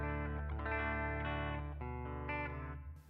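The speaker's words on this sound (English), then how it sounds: "there's a little bit of reverb, even though this knob is turned off" Electric guitar played through an Atomic Ampli-Firebox on its clean channel with a slight reverb, ringing sustained chords and notes that decay and fade out near the end, with no voices.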